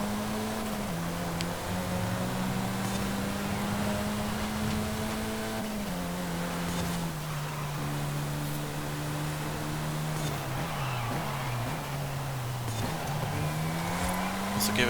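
A Saleen S1 supercar in the racing game Forza Horizon 5, its engine droning steadily at high revs with small pitch dips at gear shifts, close and continuous, and no talk.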